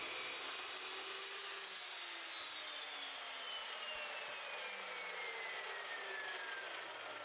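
A saw cuts through thick metal stock for surface-grinder riser feet, giving a steady, faint whirring hiss with a slowly falling tone that runs continuously throughout.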